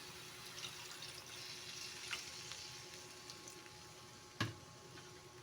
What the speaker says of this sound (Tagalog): Tapos, lagyan din natin siya ng konting tubig.